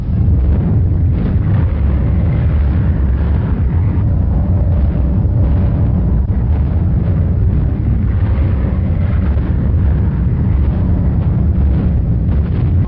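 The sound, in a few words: explosion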